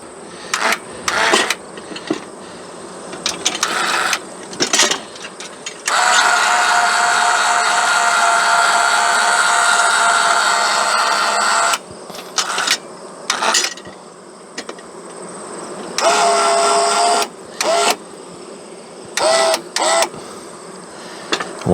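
A motorized machine for lifting heavy beehive boxes whirs in repeated bursts, some short and some sustained for several seconds, loud and close, with a bee-like buzzing quality between stops.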